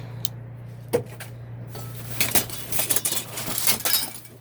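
Broken glass clinks and crunches while dumpster diving behind a retail store, scattered sharp chinks at first, then a denser stretch of rattling shards shifting and tapping, over a steady low electrical hum.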